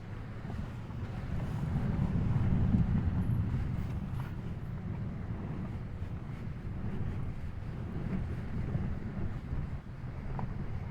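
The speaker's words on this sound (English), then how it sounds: "Ooh, lots of water running there." Floodwater runs across flooded ground after a storm in a steady, rushing wash that swells slightly midway and holds at a moderate level, with no voices.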